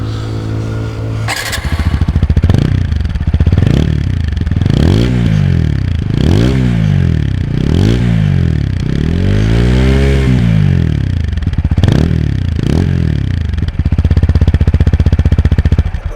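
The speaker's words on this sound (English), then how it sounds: "here is how the exhaust of the new TVS Apache RTR 160 BS6 sounds like" A 2020 TVS Apache RTR 160 4V BS6 motorcycle engine revs repeatedly in loud, rising and falling bursts from the exhaust, close up, with a sharp start at the beginning and no talking.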